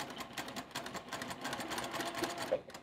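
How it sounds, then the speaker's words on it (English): A sewing machine stitches quilt block seams for a star quilt block in a fast, even mechanical whir with rapid needle pulses, close but fairly quiet, without talk. "When I come up to the seams, I'm just going to make sure I'm sewing them down in the direction they were pressed."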